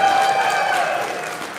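A comedy-show audience at the 2023 Socialist Soirée in Chicago gives sustained applause for comedian Benjamin Hoffman, with dense clapping mixed with some whoops that fade slightly over a couple of seconds.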